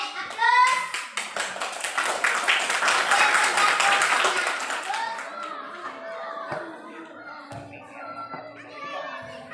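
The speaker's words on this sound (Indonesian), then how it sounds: "Aplaus." Audience clapping breaks out in a classroom lesson setting, a dense burst of applause mixed with children's voices for several seconds, then thinning to scattered claps and chatter.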